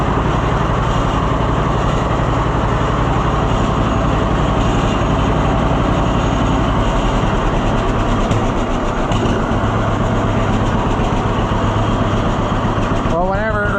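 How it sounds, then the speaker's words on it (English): A tractor engine idles with a loud, steady, close mechanical chug that holds without change for over ten seconds. A voice speaks briefly at the end. "It might just not like to sit there and idle"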